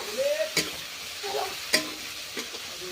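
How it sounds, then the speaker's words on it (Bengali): Onions and spices sizzle steadily in hot oil with a little water while a spoon scrapes and stirs the pan a few times, close and clear. "এখন ভালো করে আমি মশলাগুলি ভেজে নেব"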